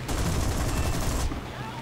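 A Spitfire IIb fires its machine guns in a flight video game, a dense rapid fusillade lasting about a second before it cuts off abruptly and leaves a quieter engine drone.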